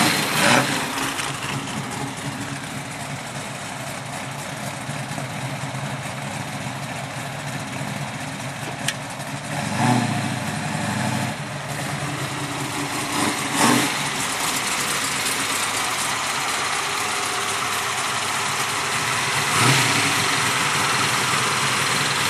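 A 1979 Oldsmobile Cutlass with a custom-built 434 cubic inch stroker small block idles nearby. Its steady, loping rumble swells briefly around the ten- and twenty-second marks over a constant background hiss.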